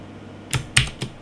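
Three distinct clicks of keys being pressed on a computer keyboard, spaced about a quarter second apart, close and fairly crisp in a quiet room.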